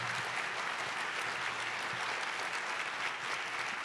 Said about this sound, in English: Please give Dr. Glaude another round of applause.